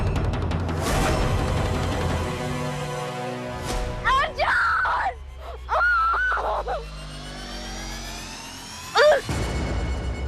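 A woman screams and moans in pain, letting out loud, wavering wails in several drawn-out bursts with short gaps between them.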